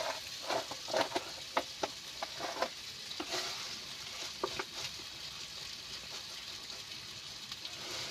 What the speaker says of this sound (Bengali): এইভাবে নাড়তে থাকলে আর পোড়ার গায়ে লেগে যাবে না